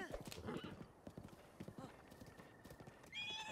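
A horse in a video game clip-clops steadily along with rhythmic hoof taps and gives a bright whinny near the end, with faint background game sound and possible speech.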